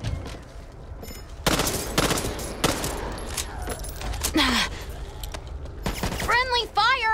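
Bursts of automatic gunfire in the Back 4 Blood video game, friendly fire from a teammate, rapid volleys with thuds and mechanical clatter, fairly loud and close, game sounds mixed throughout.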